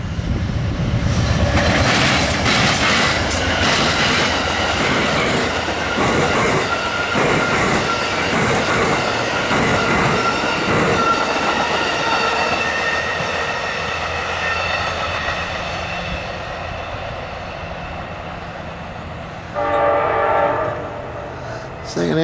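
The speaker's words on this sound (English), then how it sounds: "Amtrak 90, be the Palmetto, northbound by Pembroke." Amtrak Palmetto passenger train led by a P42DC locomotive, engine 43, passing northbound at Pembroke, with a loud, steady roar, a horn blast and rhythmic wheel clatter that eases slightly toward the end.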